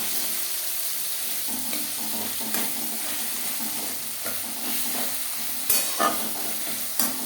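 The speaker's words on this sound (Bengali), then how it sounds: "হাফ চামচ গরম মশলা পাউডার পেঁয়াজ টমেটোর সাথে বেশ ভালো করে মিক্স করে দেবে" Garam masala powder is stirred into onion and tomato frying in a pan for aloo chicken curry, with a continuous sizzle under repeated scraping strokes of the spoon and no voices.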